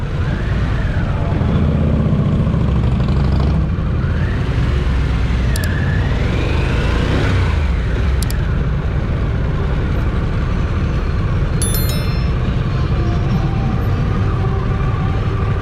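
A 2023 Harley-Davidson Pan America Special motorcycle engine runs steadily and loudly throughout, a continuous close rumble with a few brief higher whines and clicks over it, no talking.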